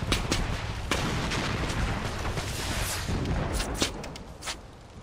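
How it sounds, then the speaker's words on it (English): Gunfire in the video game Far Cry 4: a dense, continuous stretch of rattling shots and booming blasts fills the scene, with a few sharper cracks standing out near the end. "Somebody else shooting at me?"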